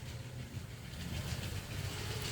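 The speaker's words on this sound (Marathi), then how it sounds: "मेट्रो फिरतीये" A model Pune metro train in a festival decoration runs with a faint, steady rumble and soft rhythmic clatter, quiet and continuous.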